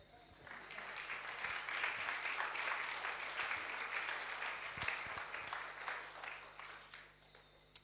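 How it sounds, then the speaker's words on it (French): A church congregation applauds steadily for several seconds, swelling and then fading, with a few sharper claps near the end; the sound is faint and distant. "Let's put our hands together for what God is doing from tonight moving forward."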